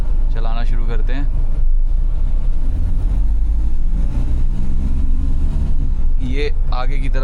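A 1994 Tata Sierra's engine pulls away in first gear, a loud, steady low drone close by, while someone talks over it at the start and again near the end.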